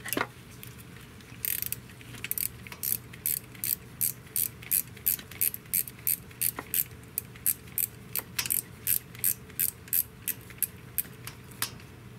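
A 9/16 socket wrench ratchets repeatedly while removing hardware from a small-block Chevy 400 engine, a long run of rapid metallic clicking bursts in an even rhythm, close and fairly loud with no talking.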